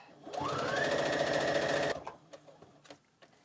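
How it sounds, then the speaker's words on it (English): Sewing machine running a straight stitch through fabric for a junk journal, a steady, fast mechanical whir with a rising pitch that runs for about a second and a half, then stops, leaving light handling clicks. "I'm just going to be using a straight stitch right down the middle."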